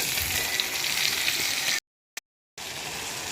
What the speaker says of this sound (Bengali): আর এখানটা মাছ ভেজে নিচ্ছি